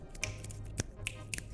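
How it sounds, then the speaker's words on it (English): Three or four sharp finger snaps ring out at uneven intervals against a quiet, low background hum. "I know you heard me snapping my fingers."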